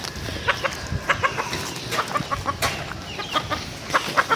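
A hatch gray gamefowl broodstag, a young rooster from a game farm, clucks repeatedly in short sharp bursts at close range, with background farm noise and no talking.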